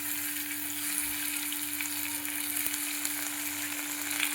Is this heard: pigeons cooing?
no